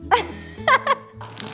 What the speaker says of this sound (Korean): 아, 강아지.